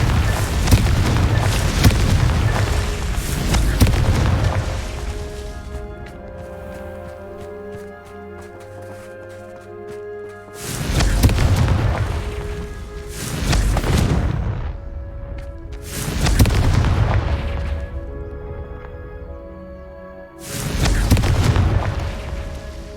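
Confringo blasting spells in Hogwarts Legacy set off a series of heavy, booming explosions, four or five big blasts spaced several seconds apart, each followed by a rumbling decay with ringing musical tones between them.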